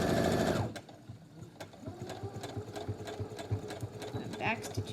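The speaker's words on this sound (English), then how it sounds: "I'm back stitching over that string." A sewing machine back stitches over string on a homemade fabric face mask, a fast motor whir that stops, then gives way to a quieter stretch of ticking and clicks.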